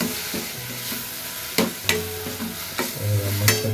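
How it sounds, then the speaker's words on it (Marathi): Ground masala paste sautéing in hot oil for a wild-vegetable (shevla) curry, a steady close sizzle broken by several sharp scraping stirs of a spatula against the pan. "चला, मस्त मसाला व्यवस्थित एकदम परतून घेऊ."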